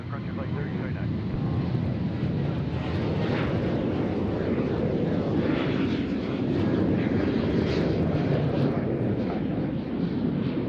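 A Frontier Airlines jet passes near Nashville airport as a steady, broad engine roar that holds at an even level throughout, with faint talk in the background.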